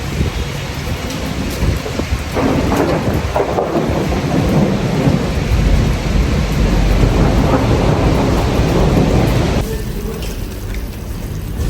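A loud thunderstorm with heavy rain pouring steadily on surfaces, rumbling thunder rolling through the middle, the downpour continuing close and dense to the end.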